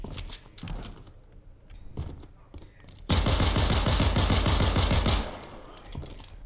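Automatic gunfire in Fortnite, a few scattered shots and then a dense, loud burst of rapid fire lasting about two seconds, with players talking.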